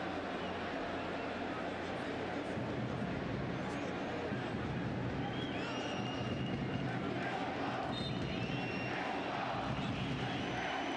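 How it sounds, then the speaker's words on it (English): Steady roar of a football stadium crowd in Toluca during a Mexico versus Bermuda match, a continuous, fairly distant wash of voices that holds level throughout with a few faint whistles above it. "Crowd coming to life in Toluca."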